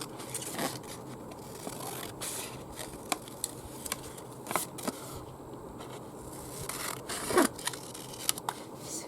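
Scissors snip through paper to cut out a Christmas star shape, a series of quiet, close crisp cuts and rustles coming in irregular bursts.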